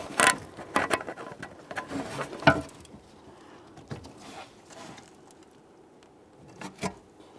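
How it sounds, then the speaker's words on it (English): Plastic fuel line quick-connect being squeezed and pulled free from a 1998-2011 Ford Ranger 2.3L fuel pump assembly, giving a few sharp clicks and rattling scrapes up close, then quieter fumbling and a final click. "Squeeze on those two locking ears and pull it up and out of place"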